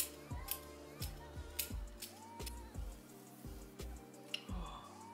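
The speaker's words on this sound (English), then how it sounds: "Just cutting around the lace." Scissors snip repeatedly around the lace of an HD lace wig, a series of close, crisp cuts in an irregular rhythm in a quiet room.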